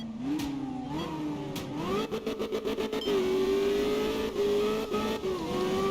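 A BMW M1 engine in a racing video game on a stage in Norway, revving up through the gears with a steady mid-pitched howl and quick shift blips, loud and close, alone.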